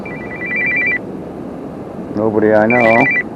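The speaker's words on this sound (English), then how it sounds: "That's my phone." A mobile phone rings outdoors beside a waterfall on a fishing trip, with two short bursts of electronic ringtone, one early and a louder melodic stretch near the end, over steady rushing water.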